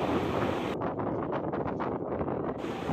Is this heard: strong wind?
yes